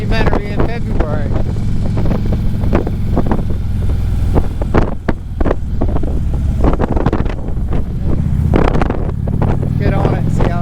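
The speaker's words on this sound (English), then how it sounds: "here comes the wind" Heavy wind buffeting a helmet or bike microphone while riding a motorcycle in February, a loud continuous low roar with gusty swells throughout, and a rider talking over it.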